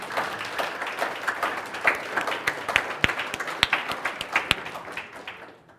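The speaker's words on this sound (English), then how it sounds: "I think they were clapping for you," An audience claps steadily for several seconds with a few sharp, close individual claps standing out before the applause fades away.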